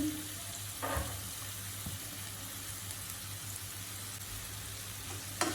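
A prawn malaikari mixture with milk sautés in a pan, a soft, steady sizzle broken by a couple of brief stirring scrapes, close by and without speech.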